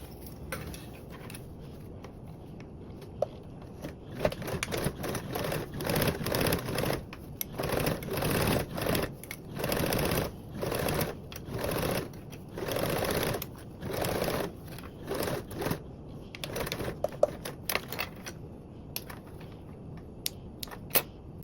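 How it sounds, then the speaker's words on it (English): A sewing machine stitches a seam on a bag pattern, running in repeated bursts of rapid mechanical chatter separated by short pauses, close and steady with no talk. "I'm gonna go ahead and sew"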